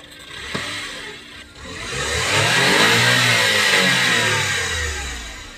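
A 4WD car engine revs up hard and climbs to a high, sustained roar at 7,000 RPM, holding near its peak before easing slightly, loud and close.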